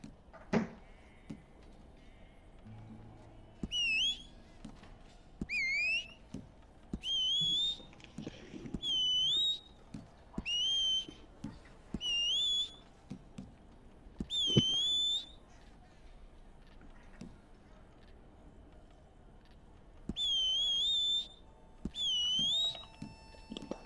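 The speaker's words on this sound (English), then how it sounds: "Whistle." Repeated two-note whistle calls in Red Dead Redemption 2, a western game, heard about nine times in short regular bursts over low game ambience and scattered effects.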